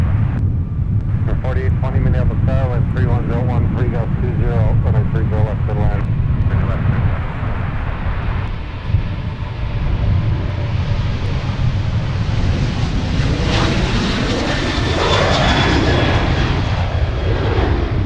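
Near Minneapolis–St. Paul airport, an airliner landing on runway 30 left makes a loud, sustained jet roar that swells and sweeps in pitch, while radio voices talk over it.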